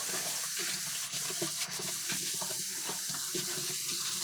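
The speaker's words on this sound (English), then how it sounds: "Rinse the boiled noodles in ice-cold water to make them incredibly bouncy." Tap water runs steadily into a sink while boiled instant ramen noodles are rinsed in ice-cold water, a continuous close splashing hiss with small shifts in the flow.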